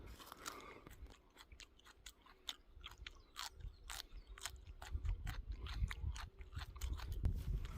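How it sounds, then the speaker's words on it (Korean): Raw lacquer tree sprouts are eaten fresh with close, crisp crunching and chewing. The snapping bites repeat rapidly and irregularly and sit over a low background rumble. "지금 생 걸로 먹어도 참 고소합니다."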